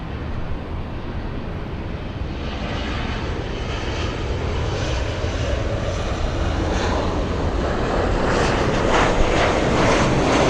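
A large airliner at Los Angeles International Airport roars steadily with broadband engine noise, staying loud and constant throughout with a slight swell near the end, and no voices over it.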